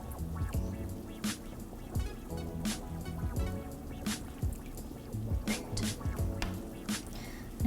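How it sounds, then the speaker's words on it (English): Hot water is scooped out of a pot of simmering meat and onions, with repeated close sloshing, dripping and clinking as the ladle dips and pours. "get some hot water right from your pot so it has all of that meat and onion flavor"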